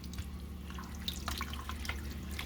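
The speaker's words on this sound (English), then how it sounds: "at this point, add a little bit of water" Water trickling and dripping into a pan of beef and broccoli being cooked, soft splashes and patters over a low kitchen hum.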